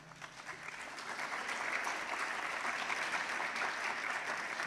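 Audience applause at a college convocation, a steady wash of many hands clapping, fairly faint and distant, swelling slightly then holding even without talk.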